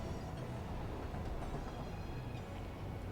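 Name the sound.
train in Satisfactory video game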